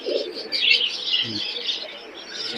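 Pigeons at a crowded pigeon market in Khulna coo softly and low under a steady layer of chirping birds, with faint voices in the background.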